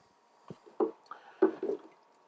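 A turkey baster squirts water onto potted succulents in a series of soft, quiet drips and squishes, five or six small splashes spaced irregularly over two seconds.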